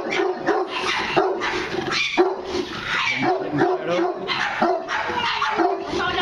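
A Fila dog in Portugal barks loudly and repeatedly at close range, deep rapid barks with occasional yips, while people talk in the background.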